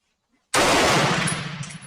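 VZ52 rifle fired during a function test, one sudden loud close blast that cuts in from silence and trails off into ringing echo and mechanical noise.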